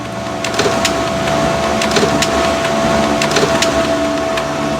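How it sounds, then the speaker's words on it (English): A printer in the Memento Mori 2 game runs while printing photos, giving a steady mechanical whir with a sustained tone and soft periodic clicks repeating about every second and a half, moderately loud and alone. "The printer is working."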